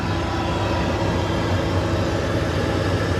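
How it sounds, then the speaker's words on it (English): A 1986 Chevrolet Corvette C4 with a 350 hp engine and aluminum heads idles in a garage, a loud, steady, close rumble with no variation or voices. "Alright guys, this is the engine right here."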